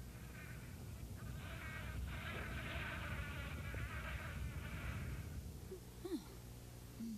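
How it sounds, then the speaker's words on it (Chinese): A buzzing bee sound effect in a TVB wuxia drama gives a continuous, wavering insect drone for several seconds before it thins out, followed by a short quack-like squeak near the end. "蜜蜂都能飞得过去，我的小蜂可能也飞得过呀。"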